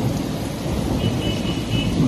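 Heavy rain pours onto a city street in Ismailia, Egypt, during a thunderstorm, a dense, constant roar of rain with deep rumbling thunder underneath and no voices.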